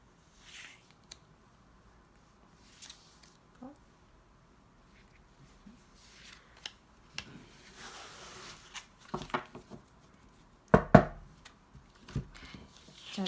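Tarot cards are shuffled and spread out by hand, giving soft papery rustles and light flicks that build into a brisk riffle of taps and slaps, close and quiet, with no talk over them.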